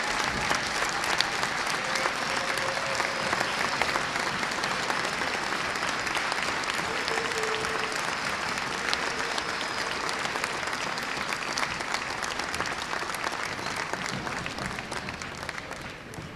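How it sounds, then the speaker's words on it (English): Sustained audience applause at a high school Hall of Fame induction ceremony honoring former athletes, a steady dense wash of many hands clapping that continues evenly throughout and tapers slightly near the end. "Please join me in one final round of applause for these outstanding gentlemen and their impressive athletic accomplishments."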